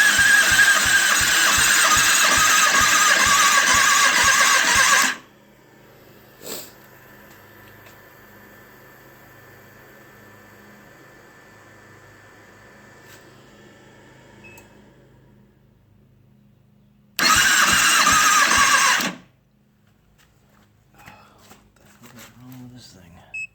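A 2009 Kawasaki ZX6R motorcycle engine, being rebuilt, cranks in a loud five-second rhythmic burst, goes quiet with faint clicks, then cranks again in a shorter burst near the end.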